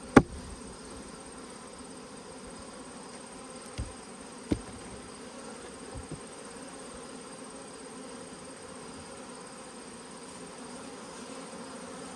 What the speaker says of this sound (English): That's a wad of bees.